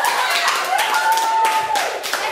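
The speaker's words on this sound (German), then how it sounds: "Applaus." Hands clapping in a short burst of applause, a quick run of sharp claps over a faint steady whistle-like tone, fairly close and loud.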